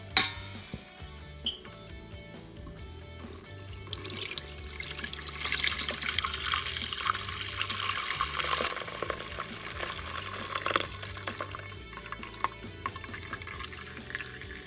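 Blended horchata is poured into a bowl and strained, making a steady liquid pouring and trickling rush that swells in the middle and tapers to dribbles, close by with no talk.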